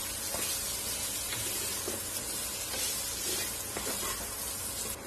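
Raw banana pieces sizzle steadily in hot oil with masala, broken by irregular scraping stirs of a spoon against the pan, close and continuous with no talk.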